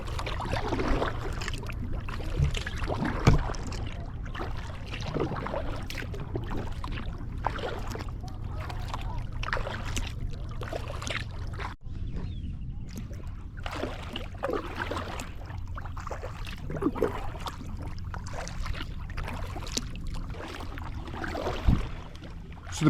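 A solo sea kayak paddles near the Isle of Kerrera off the west coast of Scotland, with steady rhythmic paddle splashes and water sloshing close by over a constant wind-and-water background.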